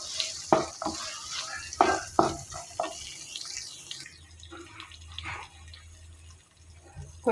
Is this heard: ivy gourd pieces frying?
yes